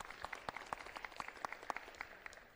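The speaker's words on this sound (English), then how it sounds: "let's get another round of applause for Maddie" Scattered clapping from a small audience at a college athletics stole ceremony, a steady patter of hands at moderate distance, fairly faint, with no talk over it.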